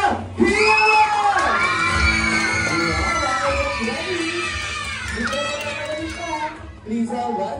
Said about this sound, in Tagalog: isang masigawang palakpakan rin kasama! Hiyaw!